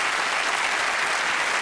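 A close-up magic show audience in a bar applauds, a brief, dense and steady burst of clapping heard loud and close.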